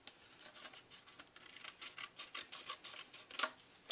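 Scissors snip along the edge of a paper card in quick, crisp repeated cuts, close and alone, building to a sharper final snip.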